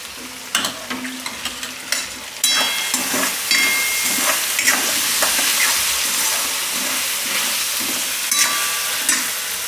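Green chillies cut into pieces sizzle loudly in a hot tempering with curry leaves for a peas and potato kadhi. The frying crackles steadily and close, with spoon stirring and scraping clatter throughout.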